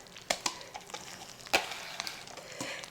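Parmesan cheese stirred into a Tuscan chicken cream sauce in a pan, quiet simmering with several spoon clicks and scrapes, one sharper knock midway.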